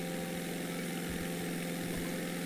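A propeller aircraft engine in Microsoft Flight Simulator 2020 drones steadily, a constant mid-pitched hum with a faint rhythmic pulsing, heard alone and fairly quiet throughout.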